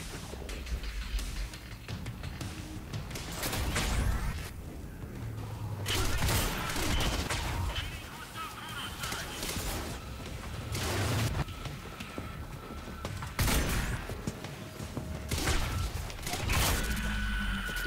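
Gunfire in the video game Quantum Break aboard a ship, irregular loud shots and bursts spaced across the stretch with mechanical clanks and game ambience between them.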